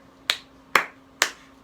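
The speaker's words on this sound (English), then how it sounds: "I can clap my hands." Hands clap along to a children's goodbye song at a nursery: three sharp, evenly spaced claps at close range with a fourth starting at the end, no voices over them.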